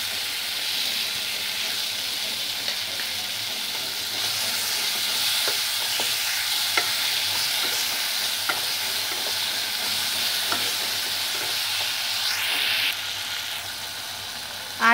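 Ripe mango pieces being stirred in a sizzling pan for chutney, with a steady frying hiss and soft scraping strokes of the spoon throughout, close and continuous.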